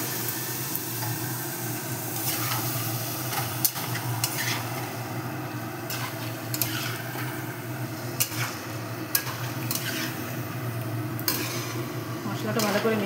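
Marinated chicken for biryani stirred and frying in spiced oil in a pot, a steady close sizzle with scraping spoon strokes and occasional metallic clinks of utensil against the pan.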